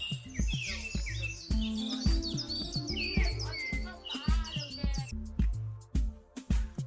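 Caged birds at Hong Kong's Bird Street chirp and tweet in a dense, busy chorus of overlapping calls, close and loud, with clicks and bustle of the market underneath.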